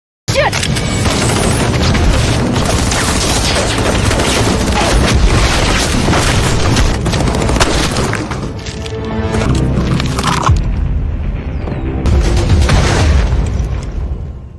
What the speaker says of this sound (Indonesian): Popon dan Ujang pun menembaki Ningsi dan anak buahnya yang kekuatannya jauh di atas mereka.